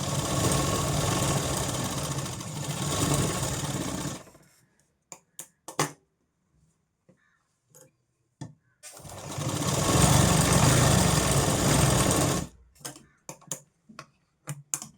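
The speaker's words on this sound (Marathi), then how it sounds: "याला आपल्याला डबल टिप मारून घ्यायची आहे काय करायचं आहे आपल्याला डबल टिप मारायचे आहेत" Sewing machine running a double row of stitching on a blouse, two sustained loud bursts of steady mechanical whirring separated by quiet handling clicks and short taps.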